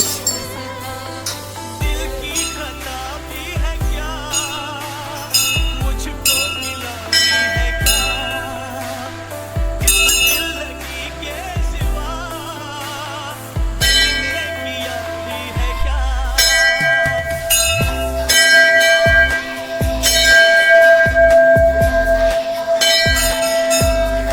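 Metallic temple bells at Sikotar Dham temple in Gujarat ring continuously and loudly for a long stretch, clanging in rapid, overlapping strikes with a dense shimmering tone.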